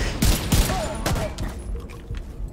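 Video game gunfire, a loud close fusillade of heavy rapid shots with sharp bursts at the start, then continuing chaotic firing and impacts over a busy background.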